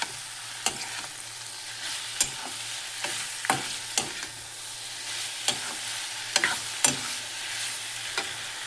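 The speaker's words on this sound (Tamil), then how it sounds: "இப்போ நம்ம இந்த மாவத்தல், கத்திரி வத்தல், கொத்தரை வத்தல் எல்லாத்தையும் நம்ம போட்டு நல்லா ஒரு வதக்கிக்கிற போகிறோம்." Dried mango, brinjal and cluster bean vathal being stirred and sautéed in a pan, a steady soft sizzle broken by repeated sharp scraping knocks of the spoon against the pan at irregular intervals.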